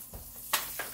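Homemade onion rings frying in hot oil give a steady sizzling hiss, with a couple of sharper crackling bursts partway through.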